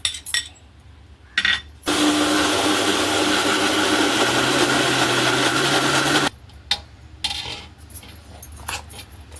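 A kitchen mixer grinder whirs loudly for about four and a half seconds, finely grinding soaked poha and rice batter. Clinks and handling knocks of the jar come before and after the run.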